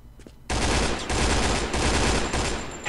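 An AUG rifle firing in the mobile shooter game Point Blank: Strike, loud, sustained automatic bursts with brief gaps, starting after a quiet half second and heard alone.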